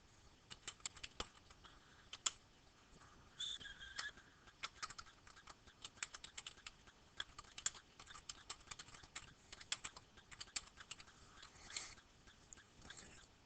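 Computer keyboard keys being tapped in quiet, irregular bursts of light clicks at close range, with brief pauses between runs of typing while entering text into a spreadsheet.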